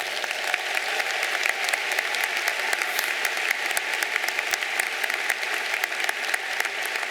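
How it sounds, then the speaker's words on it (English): A large crowd applauds graduates at a university commencement ceremony, with loud, dense, sustained clapping and sharp individual claps standing out across the whole stretch, and no speech over it. "Let's give them all a round of applause."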